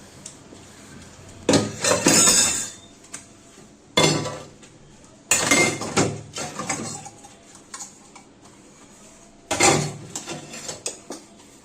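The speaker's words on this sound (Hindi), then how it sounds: "वो सब बर्तन मैं धो देती हूँ" Dishes are washed after a meal, with bursts of clinking steel utensils, plates and cutlery knocking together close by, separated by pauses and with no talking.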